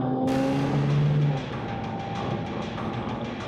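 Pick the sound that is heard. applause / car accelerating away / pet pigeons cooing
car accelerating away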